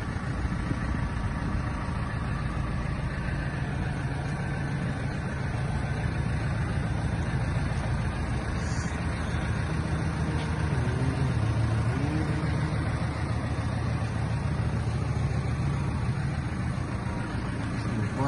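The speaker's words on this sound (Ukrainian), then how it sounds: "Без проблем працює цей грейдер." A tractor engine runs with a Demus GT300 grader attached, giving a steady, unbroken low drone close by, loud and even throughout with no talking over it.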